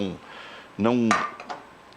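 A cooking pot rings out with a sharp metallic clang as it is struck or pressed during a strength test, preceded by a brief voice and followed by faint clicks.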